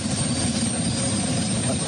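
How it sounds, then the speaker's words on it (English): A personal helicopter kept in a backyard, its rotor and engine giving a loud, steady low thrum that stays constant and close with no pauses. "That's Ken's personal helicopter he's got in his backyard."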